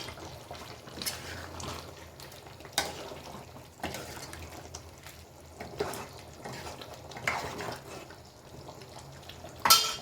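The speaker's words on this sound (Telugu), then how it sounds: "ఒకసారి మిక్స్ చేసేద్దాం ఒకసారి మిక్స్ చేసేసుకుందాం కర్రీ చూద్దాం" A spoon stirs biryani curry in a pan with faint, soft scraping strokes every second or so, separated by quiet gaps and ending in a sharper clack.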